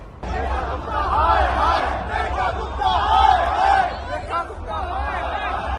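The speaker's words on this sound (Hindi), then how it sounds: "स्टेडियम में तालियां नहीं नारे गूंजते हैं AQI हाय हाय" A large stadium crowd in Delhi chants 'AQI hai hai' in a loud, rhythmic roar that swells and repeats, at a football event with Messi.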